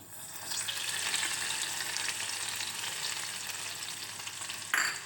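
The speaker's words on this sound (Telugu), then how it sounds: "నెయ్యిని కాసేసుకొని జీడిపప్పు వేసి వేయించేసుకుందామండి" Cashews sizzle steadily as they fry in fresh homemade ghee for a festival pongal offering, a continuous close crackle with one brief sharper clatter near the end and no talking.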